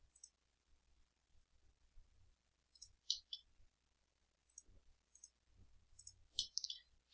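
Computer mouse clicking in quiet, sharp isolated clicks scattered over several seconds, some in quick pairs, close and fairly soft with no talk.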